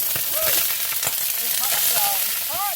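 Broccoli, green peppers and onions fry loudly in hot oil for a beef and pasta stir-fry, a dense close sizzle with crackles while a voice speaks faintly underneath.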